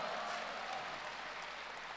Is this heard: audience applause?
yes